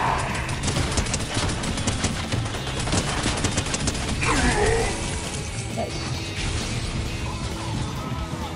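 Rapid gunfire and mechanical clatter in the Fortnite video game, with dense bursts of shots and clanks running continuously through a busy, loud game mix.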